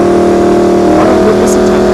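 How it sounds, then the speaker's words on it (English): A Paxton supercharged Coyote drag car at a dragstrip test-and-tune session drones at a steady, loud, high engine pitch with a whining tone, close and continuous. "that is the Paxton supercharged Coyote there on the left"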